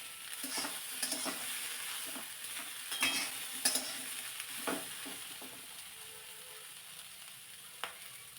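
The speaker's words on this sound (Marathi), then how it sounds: "शिजवून न घेता मी तेलामध्ये नुसतं परतून घेते" Vegetables sautéing in oil in a pan, a steady soft sizzle with scattered stirring scrapes and clinks of a utensil, close and moderately quiet.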